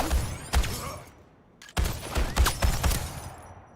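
Gunfire from the Suicide Squad video game: sharp bursts of shots crack in irregular clusters, with a brief lull between volleys, loud and close.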